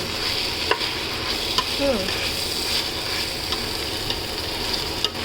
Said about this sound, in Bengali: এখন এই চালটাকে আমি এগুলোর সাথে ভেজে নেব।